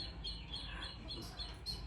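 Small birds chirp and tweet faintly in the background of a quiet room, brief high calls scattered over a steady low hum with no speech.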